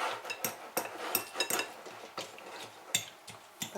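A fork mashes cottage cheese in a bowl, giving soft irregular scrapes and taps against the bowl, close and quiet, with no talk.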